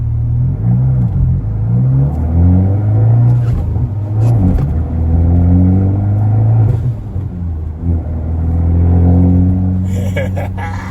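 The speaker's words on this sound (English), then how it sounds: "I'm not good at driving stick." A manual-transmission sports car pulls away and drives slowly, its engine rumbling and rising through revs, loud and close inside the cabin.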